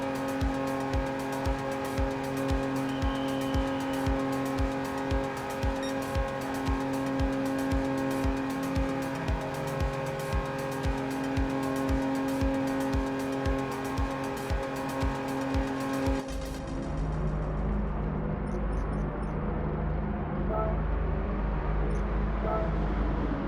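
A race car in Gran Turismo 7 rolls into the pits at the Nürburgring, its engine buzzing steadily with rapid pulsing, then the drone drops away to a softer low rumble and faint ticks.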